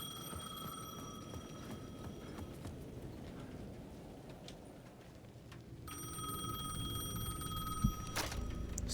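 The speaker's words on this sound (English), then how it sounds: "The payphone at the edge of the plaza was ringing again." A payphone rings repeatedly at the edge of a plaza in the video game Alan Wake 2, a thin electronic bell heard moderately far off over a low, rumbling ambient bed with no talking.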